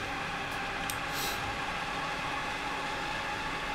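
A rapid-transit train in Train Sim World runs on the Magdeburg to Leipzig route, filling the cab with a constant, even rumble of rolling noise and a few faint high ticks early on.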